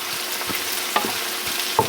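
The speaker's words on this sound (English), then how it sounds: "so we got the scallion, the garlic, and the ginger cooking down" Scallion, garlic and ginger cooking down in a pan over medium heat, giving a steady soft sizzle with a few light stirring scrapes and taps.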